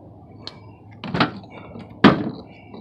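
A door on a smashed-up, mud-covered junkyard Toyota, jammed by its bent fender, is tugged at, giving two dull, close metallic thunks about a second apart with quiet gaps between.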